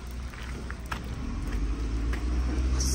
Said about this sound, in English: buses are coming